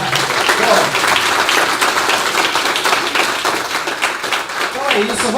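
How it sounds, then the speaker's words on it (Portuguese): A church congregation claps together in a loud, dense round of applause that runs the whole way through, with voices calling out over the clapping. "Salva de palmas, Jesus."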